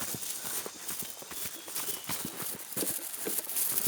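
Horse hooves clip-clop steadily along a farm path, a close and continuous run of firm hoof strikes with light outdoor background noise and no talk over it.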